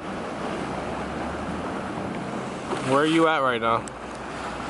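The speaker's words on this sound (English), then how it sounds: "I'm at the seawall." Surf washes against a seawall in a steady, broad rush with some wind, while a voice speaks briefly near the end.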